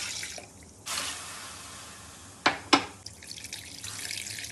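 Six cups of water poured into a pot for Bengali chicken tehri with Gobindobhog rice, a soft splashing pour followed by a couple of sharp, close splashes and drips, fairly quiet and with no talking.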